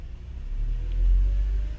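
Honda Accord from the 2008-2012 generation, its engine idling low and rising slightly in a short rev, a steady close rumble with no talk.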